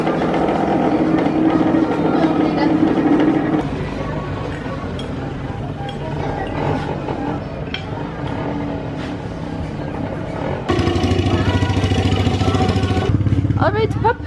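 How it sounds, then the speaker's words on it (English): Teenagers' motorbikes idle and rumble nearby on Lake Titicaca in Bolivia, a low steady engine drone with occasional clinks, running beneath close conversation for the whole stretch. "we have teenagers hanging out on their motorbikes and trying to act cool"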